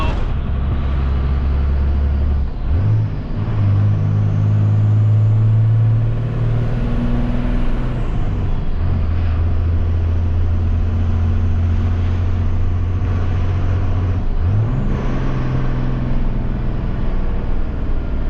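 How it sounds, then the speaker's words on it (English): A diesel dually pickup truck's engine rumbles loudly and close, its pitch rising and falling through several revs with distinct downshifts made without the clutch. "that crisp downshift without the clutch, come on now, that was gold"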